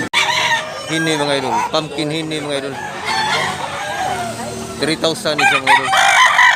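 Rooster crowing loudly and close, one drawn-out crow with clucking from other fowl at a gamecock breeder's yard, while someone talks over it.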